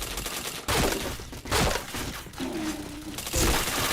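Gunfire bursts in the PointBlank shooter game, loud close shots in sharp clusters separated by brief gaps, with a short tonal in-game sound partway through.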